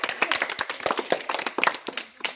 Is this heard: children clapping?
yes